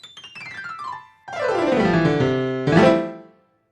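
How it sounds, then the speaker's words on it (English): A piano plays alone: a quick descending run of notes, then a sustained ringing chord and a final struck chord that fades out cleanly. "You heard the sound of a piano being played."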